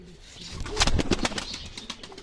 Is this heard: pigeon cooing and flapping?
yes